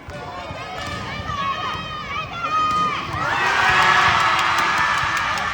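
A crowd at a cheerleading event roars and shouts on cue, voices swelling louder midway, with an announcer's voice over the noise and high whoops and chants mixed in.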